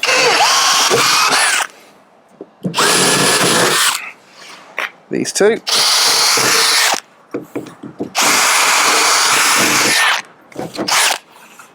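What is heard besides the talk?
power drill drilling out rivets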